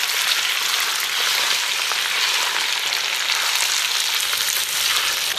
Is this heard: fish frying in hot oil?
yes